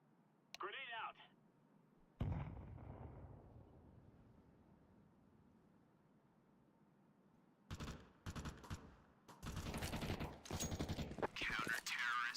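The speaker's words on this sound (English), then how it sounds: "Grenade out." Counter-Strike 2 match audio: a grenade call is followed by a brief bounce, then a sharp blast and quiet lull before bursts of loud rapid gunfire and clattering impacts fill the end, with low voice chat present.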